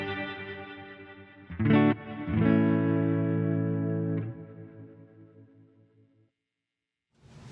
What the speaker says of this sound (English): Foot switch 2 is, again, a stereo tremolo. If you throw some reverb on before that, it sounds pretty cool.